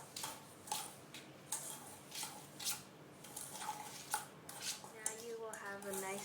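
Softened butter and egg yolk being mixed in a bowl, with a spoon giving soft, irregular clinks and scrapes against the bowl, fairly quiet and close.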